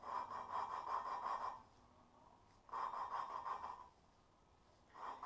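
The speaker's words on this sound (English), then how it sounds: "you take your valve lapping tool, you can center on it, and you're going to turn it back and forth" An engine valve from a Jeep Wrangler JK 3.8L is lapped with a hand lapping tool and grinding compound, giving faint, rhythmic gritty scraping strokes in short back-and-forth bursts separated by quiet gaps.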